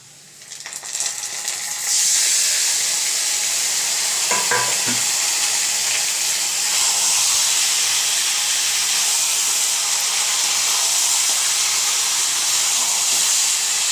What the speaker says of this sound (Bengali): সেই চিকেনটাকে কড়াইয়ের মধ্যে দিয়ে দেবো